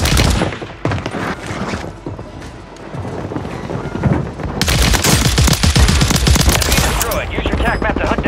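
Gunfire erupts in Call of Duty Warzone on Rebirth Island, with loud, rapid automatic bursts that grow denser and more continuous in the second half, and game effects sounding alongside.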